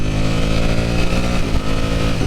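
A tuned Ducati Panigale V4 motorcycle engine revving, loud and close with a dense, continuous growl and a slight dip and rise partway through.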